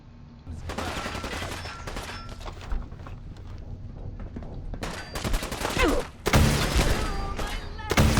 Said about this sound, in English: Missile launcher.